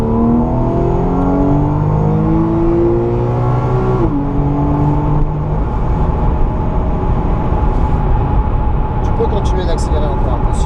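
A car engine accelerates on a cone course during a driving lesson, its revs climbing steadily, dipping briefly, then rising again. The engine runs close and loud and continuous throughout.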